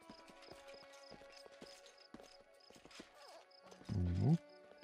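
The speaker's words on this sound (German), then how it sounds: "Ja, ein paar Pferde." Horses clip-clop in the video game Pathfinder: Kingmaker, a steady run of light hoof taps with a brief louder whinny-like burst near the end, all under ongoing game ambience.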